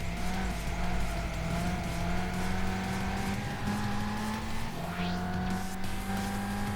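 Wedsport Celica race car in Gran Turismo 5, its engine holding a steady drone at high revs with a brief shift dip midway, continuous and close, no talk.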